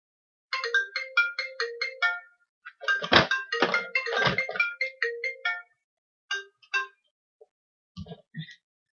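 A mobile phone ringtone plays during a paper-bead necklace crafting session, a rapid melodic pattern of bright tones in repeated bursts with a few thumps, moderately loud and close, with no talking over it.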